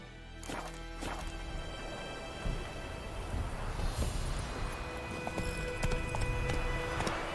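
Hooves of the horse Roach from The Witcher 3, a steady clip-clop of footfalls moving at pace over ground, moderately loud against light ambient game noise, with no talking.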